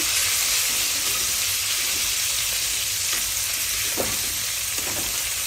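Pork sizzles with sour bamboo shoots in a hot pan, a loud, steady, hissing fry throughout, with a few soft stirring scrapes.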